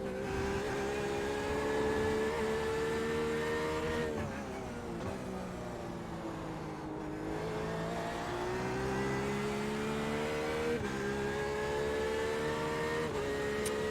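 Race car engine in the iRacing sim, a GTE car held at a steady high rev with shifting harmonic pitch that dips and climbs through the lap, loud and continuous with no talk.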